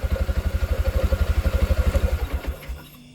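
A Yamaha Jupiter MX motorcycle engine fires up and runs with a steady, rapid putter close by, then cuts out and sputters to a stop near the end.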